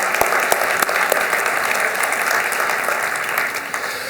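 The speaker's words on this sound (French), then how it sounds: "Donc je voudrais remercier Laura, si on pouvait l'applaudir, ça nous ferait bien plaisir." An audience at a municipal New Year's wishes ceremony claps steadily and densely for several seconds, a close, even wash of applause.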